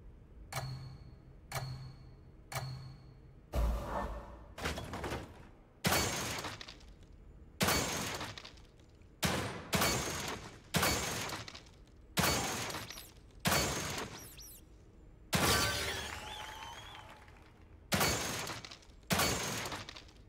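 Gunfire and targets shattering at a shooting gallery in The Evil Within 2, a series of about sixteen sharp, separate bangs, each trailing off into a brief ring or crash, at uneven spacing.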